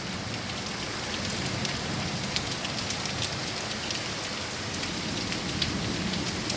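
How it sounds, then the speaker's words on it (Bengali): Heavy rain pours down steadily in Sylhet, a dense, continuous hiss and patter of drops on surfaces with occasional louder splashes, constant and enveloping, with no voices. "আগের থেকে একটু বৃষ্টি কমছে"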